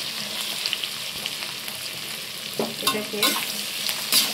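Garlic cloves, ginger and onion sizzle in a pan for paneer butter masala while a spoon stirs them, with scraping strokes over a steady frying hiss and a brief word spoken.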